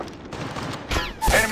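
Gunfire in the mobile battle royale game Apex Legends Mobile, a couple of sharp bursts of shots with a brief lull between them, loud and close.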